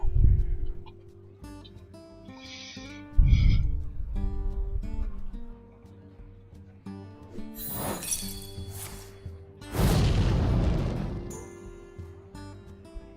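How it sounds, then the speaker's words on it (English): An Explosive Trap triggers in the Hearthstone card game with a crashing, glassy shatter burst, one loud hit near the start and a bigger one later, among chimes and game effects, with a voice speaking at times. "So I'll just attack him and use the Explosive Trap"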